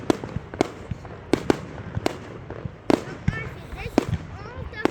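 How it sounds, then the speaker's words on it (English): Bonfire Night fireworks in Elgin burst in a string of about eight sharp, loud bangs at irregular intervals, some close and some farther off, over a low crowd murmur. "This is all the fireworks."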